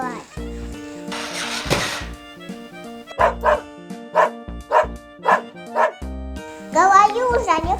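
A small dog yips and barks in a short rhythmic series of sharp, close barks, mixed with a voice and playful background music indoors.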